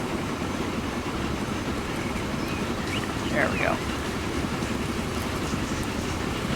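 A train runs along the tracks in the video game Transport Fever 2, a steady rumbling rail noise that continues throughout while someone speaks briefly over it.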